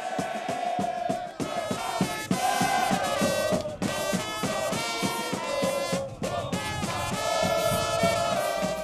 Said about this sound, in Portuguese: a torcida fez a festa